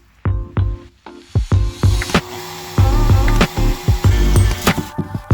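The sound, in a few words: drilling a hole for a bilge pump pull switch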